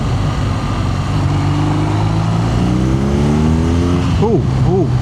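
A BMW R nineT motorcycle with an Akrapovic exhaust and a modified map rides on busy roads, its engine droning loud and steady before revving and climbing in pitch near the end, under heavy wind rush.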